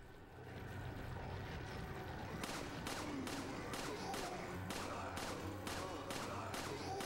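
Machine gun fire in Resident Evil 4 on the Wii: a rapid series of sharp bursts, some spaced and some clustered, cracks over a constant rumbling background at fairly low volume.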